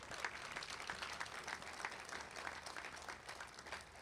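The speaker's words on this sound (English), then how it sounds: "A nice round of applause for these people." Fairly faint, distant applause from an audience at a college athletic hall of fame induction ceremony, with individual claps standing out in a steady, moderate patter.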